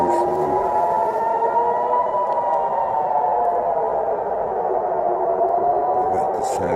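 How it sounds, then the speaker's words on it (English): A wailing air-raid siren in central Jerusalem during an Iranian attack drones steadily at a distance, its tone wavering slowly and echoing across an open area. "We've got the sirens blaring again."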